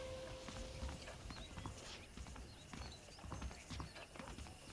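Steady clip-clop of horse hooves on hard ground in the video game Red Dead Redemption, several hooves in a continuous trotting rhythm, with faint ambient wind and birdlike chirps in the background.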